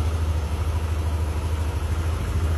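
A stock Yamaha NVX 155 scooter, a 2025 model, idles smoothly and close by with a low, even engine thrum and slight rhythmic pulsing, no voices over it.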